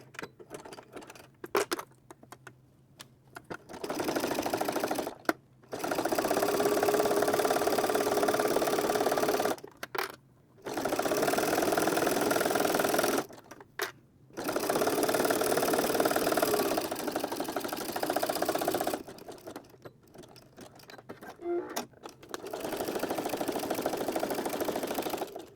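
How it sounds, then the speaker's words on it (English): A sewing machine runs a row of gather stitches in several long bursts of steady whirring, broken by short pauses and soft clicks between runs, with no voices. "While we're at the machine, we're also going to be gathering between these 2 dots."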